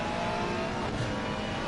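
A number 30 McLaren race car roars at Indianapolis in a racing video game, a loud, steady high-revving engine drone with a brief swell midway, no pause.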